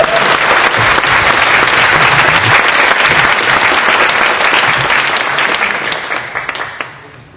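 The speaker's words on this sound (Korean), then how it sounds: "우리 박수 한번 특별히" A church congregation bursts into loud, full applause during a Korean ecumenical communion service. The clapping holds strong for several seconds, then tapers off into a few scattered claps.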